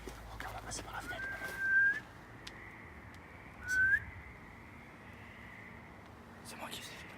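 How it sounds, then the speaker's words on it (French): Two short rising whistles from a person, each a quick upward glide, separated by a pause, with faint background noise and rustling. "C'est moi qui siffle. C'est lui qui a sifflé"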